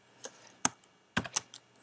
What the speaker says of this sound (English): So we click I on the keyboard